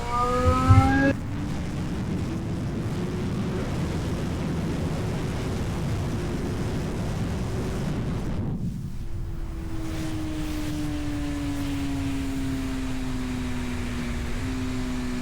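Motorcycle accelerating hard on the throttle out of a corner on a track, a loud sustained engine roar with rising pitch, shifting gear midway and climbing again, heard close and alone.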